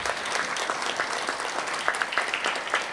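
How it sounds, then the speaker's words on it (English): An audience at a program completion ceremony claps steadily for about three seconds, a dense patter of many hands filling the room without any talking. "So let's a round of applause."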